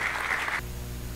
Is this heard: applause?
yes